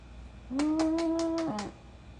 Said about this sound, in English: She's an 18-year-old cat